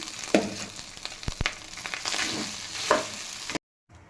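Rice with grated carrot and beetroot sizzles and crackles in a pan. A spoon scrapes and stirs in short strokes, and the sound cuts out near the end.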